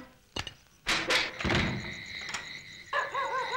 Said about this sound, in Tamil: கதவு தட்டுன சத்தம் உனக்கும் கேட்டுச்சு இல்ல?